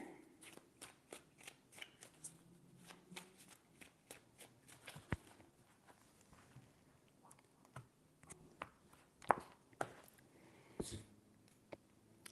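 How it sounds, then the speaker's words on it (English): Tarot cards being shuffled three times, a steady run of crisp riffling flicks and soft slaps that goes on for about twelve seconds, fairly quiet and close, with no talking. "Three shuffles."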